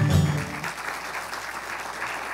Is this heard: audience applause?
yes